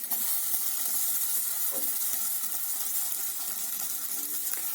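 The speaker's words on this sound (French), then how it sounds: "je vais déposer ma brique à l'intérieur, sans matière grasse" Brick pastry sheet laid in a hot dry pan with no fat, giving a steady, faint hiss and light sizzle with a few small crackles and no voices.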